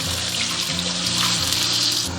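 Water pours and gushes steadily into a wok of stir-fried, thickened tomatoes for a tomato and pork liver soup, a continuous close rushing splash with no talk.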